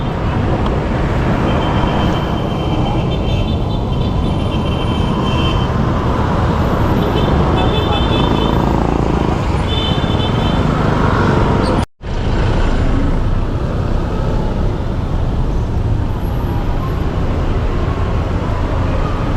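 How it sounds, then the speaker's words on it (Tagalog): Loud, continuous street traffic in Manila near Bustos Street and Chinatown, with engine rumble, passing vehicles and occasional faint horn toots, briefly cut by a near-silent gap midway. "Traffic."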